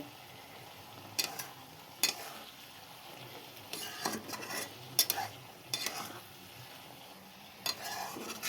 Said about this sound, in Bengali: দেখো আমি বেগুনগুলোকে দিয়ে দিলাম শাকের সাথে।